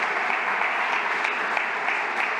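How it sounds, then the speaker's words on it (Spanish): Steady, dense applause from a large audience at a national party convention of the PP, held at a constant loud level throughout with no voices standing out. "gracias por los aplausos"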